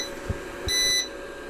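One brief, high electronic beep from a Trust UPS PW-4130M unit rings out after a couple of soft knocks, against a quiet, low background hum.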